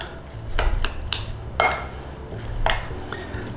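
Thai larb beef being tossed to mix it, giving a few clattering scrapes and clinks of utensil against bowl or pan at close range, spaced irregularly over a soft background.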